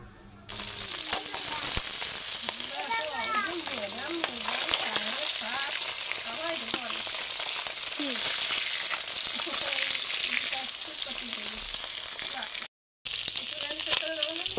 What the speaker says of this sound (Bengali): মাছটা সুন্দর করে ভেজে নেবে।